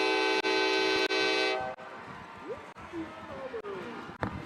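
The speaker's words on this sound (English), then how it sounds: "If you can't tell by the train whistle." Train whistle sounds loudly in a long sustained blast near a high school football stadium, then cuts off, leaving crowd murmur and scattered clicks and thumps behind.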